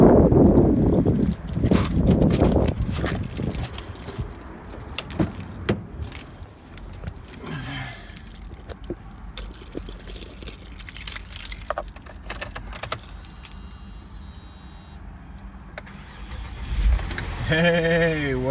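A car engine cranking and starting after its frozen battery was thawed and passed a test; the loud cranking comes early, then a steady running engine with clinks and handling sounds, and a voice is faintly present.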